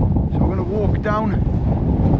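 Strong wind buffets a microphone on a wintry Lake District mountain summit, a continuous loud rumbling roar with gusts, and a voice speaks briefly in the middle.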